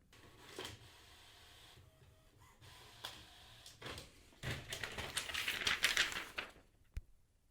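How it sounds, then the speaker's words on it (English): A paper printer runs in short mechanical bursts of whirring and clicking, with quieter pauses between them. The feed grows busier and louder toward the end, then a single sharp thump lands. "Hey Alexa, print my paper."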